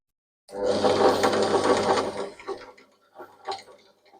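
A sewing machine whirs loudly for about two seconds, then slows into a few scattered mechanical clicks and taps nearby.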